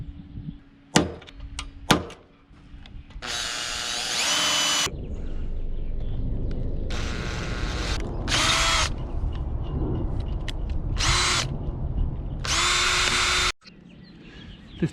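A power drill drives four screws during maintenance aboard a Hallberg-Rassy 54 sailboat: two sharp clicks, then several loud whirring bursts of a few seconds each, separated by quieter pauses.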